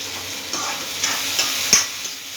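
Bottle gourd (sorekaya) palya frying in a pan gives a steady, close sizzle, with a few soft stirring scrapes and taps of the spatula spread through it and no talk.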